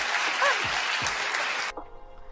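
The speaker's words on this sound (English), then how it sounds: "Clap if you understand what I'm saying." A studio audience claps loudly and densely on a comedy podcast, a steady burst that stops abruptly near the end, with a brief voice starting after it.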